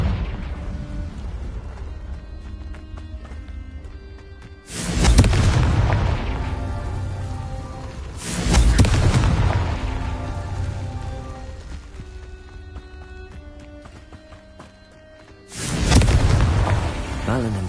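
Confringo blasting spells go off in Hogwarts Legacy, three loud booming explosions several seconds apart, each with a long rumbling decay over a steady game soundscape.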